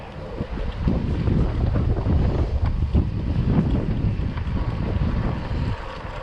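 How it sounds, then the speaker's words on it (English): Strong wind buffets the microphone while cycling along the Melbourne coastal trail, a steady loud rumbling roar that continues without a break and with no talking. "nice day, pretty windy"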